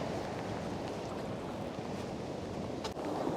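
Rieubel mountain torrent at Villard-Gondran running low in the Alps, a steady broadband rush of water with wind buffeting, continuous and fairly even, no voices.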